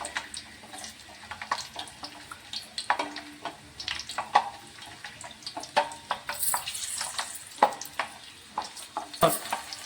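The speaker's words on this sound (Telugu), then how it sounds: "అదే ఆయిల్ వేడెక్కి ఉందండి. ఇందులో జీలకర్ర వెల్లుల్లి రెబ్బలు వేయాలండి." Cumin seeds and garlic cloves crackle and sizzle in hot oil for a Telangana amla pickle, with close, irregular spatter pops and scraping stir clatter throughout.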